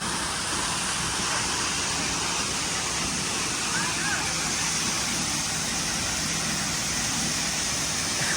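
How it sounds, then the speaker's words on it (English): A waterfall roars in a steady, dense broadband wash throughout, loud and continuous with no break. "We survived the waterfall"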